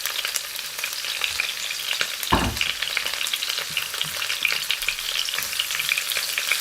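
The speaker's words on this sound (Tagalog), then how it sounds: "Lutuin muna natin ang ginger. Make a little bit brown." Ginger sizzles steadily in a pan, frying until lightly browned for a chicken and bitter gourd dish, with a dense, continuous crackle and a single soft knock partway through.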